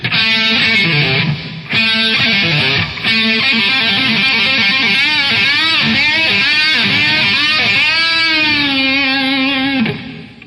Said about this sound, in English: Riff number 38 involves you taking your thumb and placing it past the nut and bending the string down